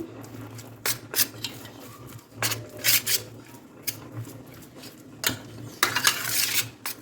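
Spoon stirring pea stuffing with ghee in a pan while cooking masala puri: irregular soft scraping and clinking of utensil against the pan, quiet and close, with intermittent bursts and no talking.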